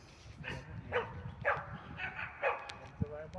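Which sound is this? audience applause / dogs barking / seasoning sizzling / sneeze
dogs barking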